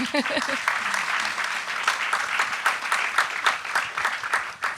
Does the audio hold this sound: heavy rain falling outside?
no